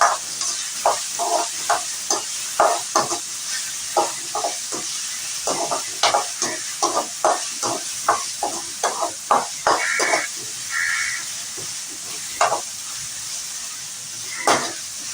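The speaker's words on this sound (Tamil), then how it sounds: "வெங்காயத்தை நல்லா வதக்கி விட்டுருப்பாங்க" Onions sautéing in a pan for spicy crab thokku, a constant bright sizzle broken by rapid, repeated scraping stirs of a spoon against the pan, close and loud.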